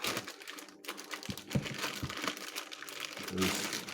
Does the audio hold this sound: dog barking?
no